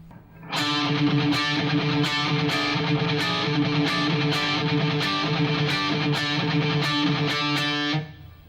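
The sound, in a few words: electric guitar chords played one octave up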